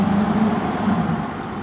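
A Nissan Skyline R32 engine roars loud and close with a strong low droning tone, holding steady for under two seconds.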